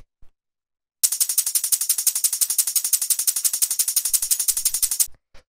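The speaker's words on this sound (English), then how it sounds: "very intense, sort of like hectic drum and bass tambourines and shakers" A hectic drum and bass percussion loop of tambourines and shakers plays alone: a fast, steady run of bright, crisp hits that starts after a moment of silence and stops abruptly after about four seconds.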